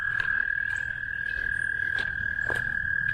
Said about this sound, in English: No, it's a big old toad or frog sitting on the top of the pond here.